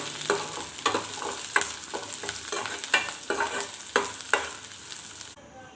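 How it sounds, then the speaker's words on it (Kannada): Cumin seeds sizzle and crackle in a hot pan while being stirred for peanut chutney, with steady frying hiss and repeated sharp scraping strokes of a spoon; close and alone, ending with a brief quieter tail. "ಸ್ವಲ್ಪ ಜೀರಿಗೆ ಹಾಕ್ಕೊಂಡು ಚೆನ್ನಾಗಿ ಫ್ರೈ ಮಾಡ್ಕೋಬೇಕು."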